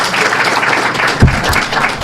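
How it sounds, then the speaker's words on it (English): Steady, dense audience applause fills the space throughout, loud and continuous, with a brief low thump midway and no talking over it. "That applause was for the otter opening the wine bottle."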